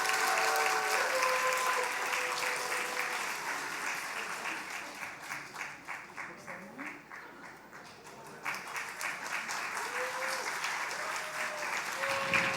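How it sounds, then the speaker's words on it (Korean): A church congregation at a Sunday afternoon service breaks into sustained applause that swells louder, a dense wash of many hands clapping. The clapping thins briefly in the middle, then surges again, with faint voices and sung tones mixed in. "박수 더 크게 해주세요."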